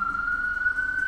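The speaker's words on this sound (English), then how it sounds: "Let's let the ambulance pass." Ambulance siren sounding steadily in heavy street traffic, a sustained high wail held loud and close for the whole moment over a low traffic rumble.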